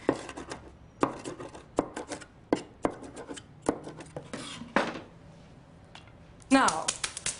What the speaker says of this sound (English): Now I'm going to lean on the garlic, my considerable body weight